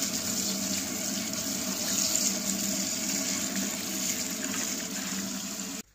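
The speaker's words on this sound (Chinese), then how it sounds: "用这个水冲一下。" Shepherd's purse greens rinsed under a running tap, a steady close rush of water hissing without pause for about six seconds before cutting off abruptly.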